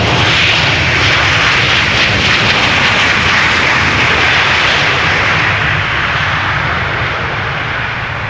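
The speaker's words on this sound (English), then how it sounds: "737-900, the PHBXT. 20 years old, first flight April 2004." A Boeing 737-900 jet airliner arrives at Amsterdam Schiphol, its engines a loud, continuous broadband roar that holds steady throughout and eases slightly near the end.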